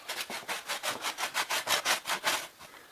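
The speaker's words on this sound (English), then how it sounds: "If your edges are rough, sometimes you like to rasp them." Rough edges of 5/8-inch sheetrock smoothed with a rasp, about a dozen rhythmic back-and-forth scraping strokes, close and steady, with no talking.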